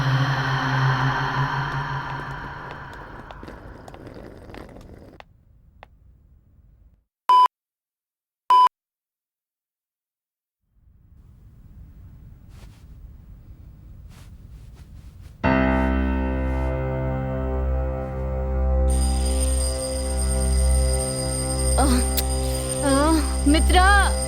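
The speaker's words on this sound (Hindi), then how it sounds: "अलार्म बज रहा है।" An alarm gives two short, sharp electronic beeps in a quiet room, with voices earlier and music swelling afterward.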